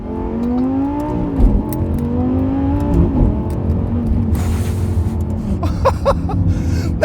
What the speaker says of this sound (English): now I've got the car in Corsa mode at the moment, and Corsa is what gives you those violent shifts